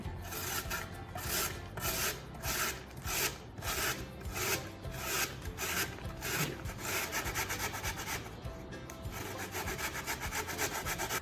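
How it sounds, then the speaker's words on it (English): Raw potatoes are shredded on a hand grater for hash browns, producing close, loud, rhythmic rasping strokes that repeat steadily with little pause. "Second step is to shred the potatoes. You're going to use your grater to do that"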